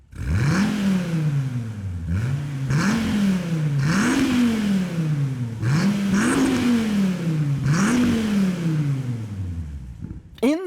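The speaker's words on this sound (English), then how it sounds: "the exhaust sounds pretty good. Big old V10 roar" A 2013 Dodge SRT Viper's V10 engine and exhaust roaring through repeated hard accelerations and upshifts, each pull rising in pitch then dropping at the shift, loud and close, ending with a brief rev blip.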